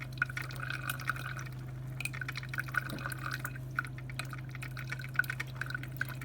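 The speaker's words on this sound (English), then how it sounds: "You can hear it brewing." A Black+Decker CM618 single-serve coffee maker brews medium to dark roast, giving a steady low machine hum under continual dripping and trickling of liquid, close and moderate in level, with no talking.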